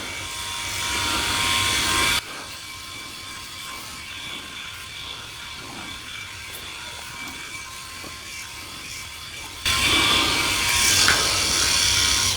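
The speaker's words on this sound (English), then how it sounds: "trying to shave every day or every 2 days with a shaver like this electric shaver" Philips i9000 Prestige electric shaver buzzing steadily while shaving a head, loud and close, with the tone dropping and muffling in the middle as the head presses against skin, then brightening again.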